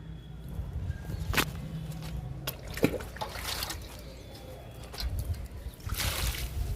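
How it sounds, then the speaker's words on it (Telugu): Water trickling onto gongura and curry leaf plants in a home garden, a soft, uneven splashing that comes and goes over a few seconds, with a couple of sharp knocks and light footsteps nearby. "గోంగూరకి ఇచ్చేద్దాము వాటరు"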